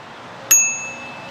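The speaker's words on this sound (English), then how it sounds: "It has a bell here" One bright ding from the handlebar bell of a FreegoEV DK200 scrambler moped-style e-bike, struck once and left to ring out with a slowly fading tone against quiet background noise.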